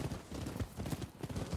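A horse's hooves clip-clop at a steady trotting rhythm in the video game Rise of the Ronin, close and fairly clear, with no talk over the beat.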